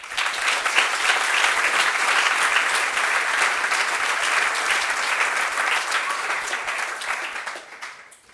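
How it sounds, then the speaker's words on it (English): An audience at an inauguration gathering gives a long, dense round of applause for the election candidates, sustained and even for several seconds before tapering off at the close. "I think we should give a round of applause to all the candidates who competed"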